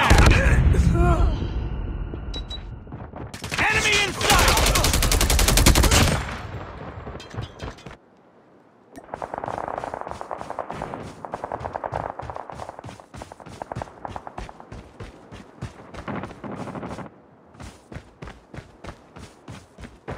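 Call of Duty gunfire, with a loud dense burst of shooting early on, then a long run of rapid rhythmic shots or footsteps, with game voices mixed in.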